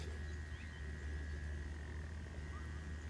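A magnetometer metal detector sounds a thin, steady target tone while pinpointing in a field in the UK, holding unbroken for several seconds at low volume over a soft background hiss.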